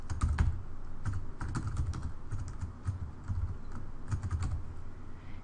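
Close typing on a computer keyboard, clustered bursts of quick key taps with brief gaps between them, steady and fairly clear with no speech.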